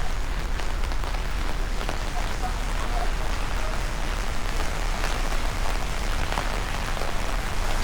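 Heavy rain falls during a yellow weather alert in Benidorm, a dense, steady hiss of drops hitting surfaces close by, unbroken and fairly loud throughout.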